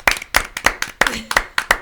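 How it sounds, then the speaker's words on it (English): A small group claps in a sharp, rhythmic unison beat for two veterans at a holiday gathering, about seven distinct claps close by with a voice briefly underneath. "Let's clap."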